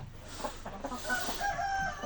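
Hens cluck softly in a coop, faint and close, with low murmuring chatter and a few brief higher calls.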